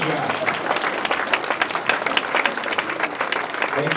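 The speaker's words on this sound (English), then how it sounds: "let's give him a big round of applause and say congratulations, Josh" A hall of fame crowd gives a round of applause, a dense, even clatter of many hands held steady for about four seconds, with faint murmuring voices beneath.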